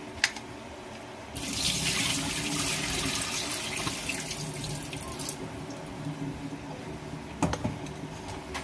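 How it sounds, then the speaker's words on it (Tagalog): Steady rushing, bubbling water boiling in a pot for rice noodles, continuous and fairly close, with a brief clink near the end. "Ayan, kumukulo na siya."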